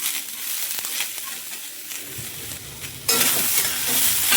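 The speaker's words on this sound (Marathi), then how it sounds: "तेलावरती छान तिला परतायची आहे आपल्याला." Cluster beans (gavar) stir-fry in hot oil for a rasa bhaji with a steady crackling sizzle and scraping stirs, then the frying swells suddenly louder and brighter partway through, with no talking.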